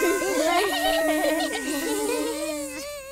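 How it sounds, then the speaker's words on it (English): Cartoon bees buzz inside a beehive play room, a loud, wavering buzz that rises and falls in pitch and runs continuously for a few seconds. "Can you find your way through the beehive like real bees? Bzz, bzz."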